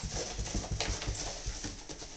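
A puppy plays indoors in a house, giving a few faint whimpers and panting sounds with soft thumps and scrabbling at close range across the short stretch.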